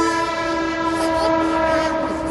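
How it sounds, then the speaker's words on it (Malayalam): A train rolls past close by with a steady, loud tonal horn-like drone and rumbling rail noise sustained throughout, no talking. "ട്രെയിൻ പോകുന്നുണ്ട്."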